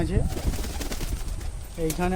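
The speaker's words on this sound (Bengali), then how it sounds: "দেখুন এগুলো ধাড়ি পায়রা" Adult pigeons coo in a loft, soft throaty calls rising near the start and again toward the end over a steady background murmur.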